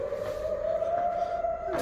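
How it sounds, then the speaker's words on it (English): An air raid siren wails over Tel Aviv during a rocket attack, a steady sustained tone rising slowly in pitch, heard at moderate distance against background noise. "I can hear the siren now."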